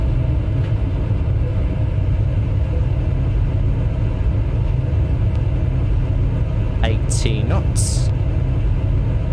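An iniBuilds A300 in X-Plane 11 landing with reverse thrust engaged, giving a loud, steady, broadband engine roar that fills the whole stretch, while someone speaks briefly over it.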